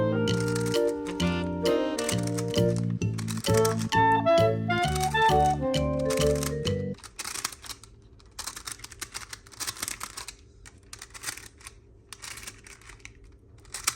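A homemade balloon squishy filled with crunchy beads is squeezed, giving dense crackling, crunching bursts that come close and clear, first under background music, then alone in quick irregular crunches.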